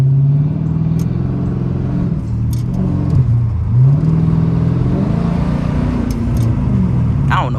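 A straight-piped Dodge Charger R/T drives along with its engine droning loud and close, the deep rumble rising and dipping with throttle, plus faint jingling and a brief rush at the end.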